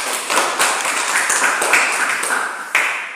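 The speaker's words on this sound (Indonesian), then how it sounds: "Tepuk tangan untuk kami." Classroom students clapping in a 9th-grade social studies lesson, a short burst of group clapping with a few distinct sharper claps, moderately loud and close, lasting about three seconds.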